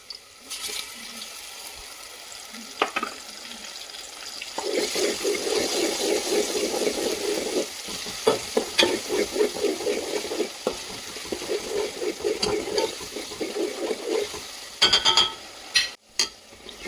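Fresh green masala paste sautés in a pan for vegetable pulao, giving a loud bubbling sizzle with repeated scraping stirs and a few sharp clinks of a utensil against the pan, close by.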